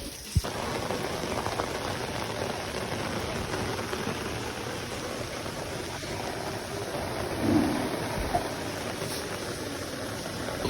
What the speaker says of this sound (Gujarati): હવે પાછું મારે આવા ઠંડા પાણીના વરસાદમાં પલળતું જવાનું